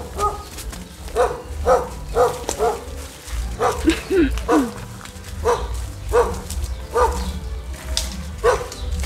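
Several dogs bark and yip in repeated bursts at a rural home, fairly close, with people talking in the background throughout.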